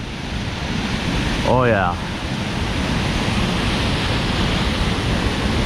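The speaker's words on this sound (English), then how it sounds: "Here we go. Here's the falls." Wren Falls flows strongly past ice-coated rock, giving a steady, broad rushing roar that fills the scene without a break. A voice briefly speaks over it.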